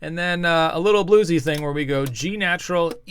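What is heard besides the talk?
No everyday noise stands out behind the speech.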